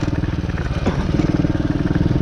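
A DB14 dirt bike engine runs close by with a rapid, rough, pulsing putter and a brief rise in revs near the middle, loud and alone without talk.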